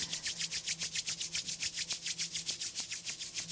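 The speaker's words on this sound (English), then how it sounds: "And then we rub the hands again, generate more heat." Palms rubbed briskly together during a morning full-body yoga stretch, a steady rapid swishing friction repeating about six times a second, close and clear with no voices.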